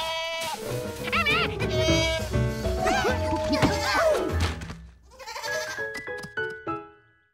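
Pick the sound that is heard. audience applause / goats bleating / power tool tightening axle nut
goats bleating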